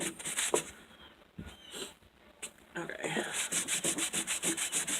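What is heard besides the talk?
sandpaper sanding finish off paint stick wood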